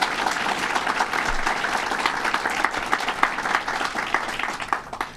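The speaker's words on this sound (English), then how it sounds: "Let's give him a round of applause." Steady applause from a crowd at a governor's funding announcement, dense clapping filling the space without a break, fairly loud and even throughout.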